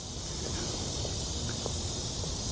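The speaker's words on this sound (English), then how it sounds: "Cicadas." Cicadas drone in a dense, steady buzz that fills the outdoor air at a Florida resort, constant and unbroken with no one speaking.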